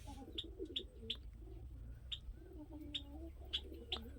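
Soft cooing of a male Giribaz pigeon close by, low throaty murmurs with a few sharp chirps scattered through, over a quiet background hum.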